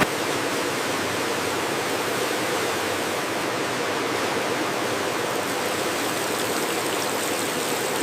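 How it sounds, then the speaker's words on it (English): A controlled waterfall spray system in a modern lychee factory washes lychee arils, producing a steady, dense rush of falling water that stays constant and loud throughout, with no voices. "A precise, controlled waterfall system ensures each aril is impeccably clean."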